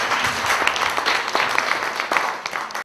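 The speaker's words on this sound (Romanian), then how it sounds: "Aplauze pentru grupul din Italia." Audience applause for a visiting dance group from Italy at a festival, dense continuous clapping with a few sharper individual claps standing out.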